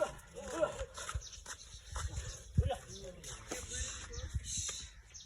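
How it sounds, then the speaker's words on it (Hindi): Dogs fighting outdoors, with snarling, yelps and whimpers in bursts amid a busy, noisy scene while people talk over it. "दोस्तों ये देखे, ये कुत्ते लड़ गए।"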